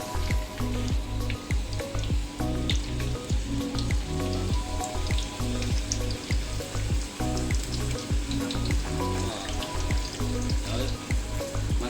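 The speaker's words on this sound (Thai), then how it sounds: "ต่อไปก็เอาลงกระทะอีกครับ กระทะทอดอีกครับ" Steady, dense sizzling of potatoes frying in hot oil in a pan, close and continuous with a crackling texture and no talking.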